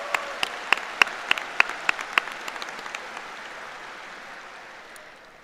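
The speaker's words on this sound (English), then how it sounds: "How about one more round of applause for our talented performers and speakers" An audience at the 2025 Kettering Fairmont High School commencement claps for performers and speakers, a burst of loud individual hand claps that thins out and fades over a few seconds.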